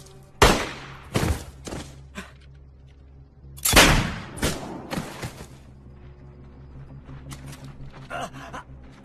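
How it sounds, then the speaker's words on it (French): Gunfire in a French action film: a few sharp, loud cracks and bursts come close together early on, followed by quieter scattered impacts and rustling. "J'ai entendu les coups de feu."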